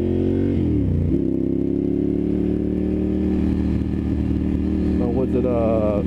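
A Ducati Monster 796 motorcycle engine runs steadily and loud throughout, with a brief dip and rev change early on, a continuous close-up mid-range drone.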